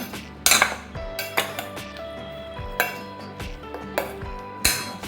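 A metal spoon mixing chicken marinade in a bowl, clinking and tapping against the side in irregular strokes, close and clear with no talking.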